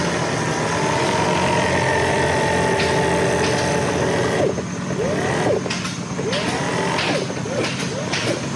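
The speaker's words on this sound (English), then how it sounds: "Here is Tammy to demonstrate some of the sewing that we do." Industrial sewing machine stitching upholstery in a factory sewing department, a steady mechanical hum with rapid stitching and faint ratcheting clicks amid shop noise.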